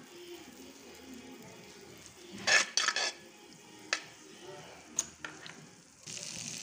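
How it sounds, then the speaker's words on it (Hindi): Butter sizzles softly in a hot kadhai, with a few sharp scraping and clinking stirs of a metal spoon against the pan, and a brighter sizzle swelling at the close. "अब इसमें हम थोड़ा सा बटर डालेंगे और बटर को कढ़ाई में हम अच्छे से फैला देंगे"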